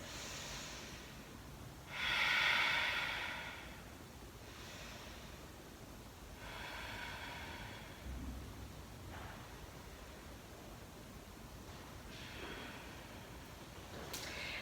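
Slow, deep breaths during a yoga relaxation at the end of a vinyasa flow class, long airy inhales and exhales close to the microphone, one breath louder than the rest, with no talking.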